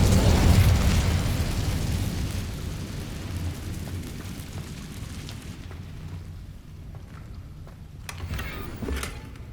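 An Incendio fire spell blast in Hogwarts Legacy erupts in a loud booming whoosh that decays into a crackling, rain-like fiery rumble, with a few sharp pops near the end.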